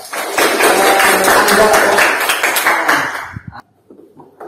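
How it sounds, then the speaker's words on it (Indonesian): A class of students clapping hands together in a classroom, a dense burst of applause lasting about three seconds before cutting off, followed by a few scattered taps and quiet room noise. "Tepuk tangan dulu"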